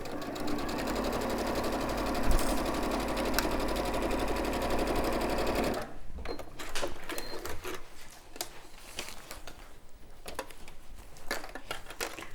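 A sewing machine bastes a flap into Hoffman batik fabric, its rapid mechanical chatter loud and steady for about six seconds, then giving way to quieter intermittent clicks and handling.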